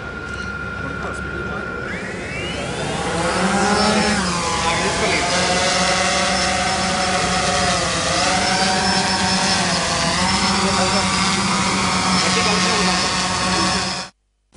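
A camera drone flying over a wedding gives a buzzing rotor whine that rises and falls in pitch as it manoeuvres. The whine continues throughout under a person speaking.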